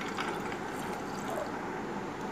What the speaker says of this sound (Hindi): और ये पानी डाल देंगे इस जग के अंदर।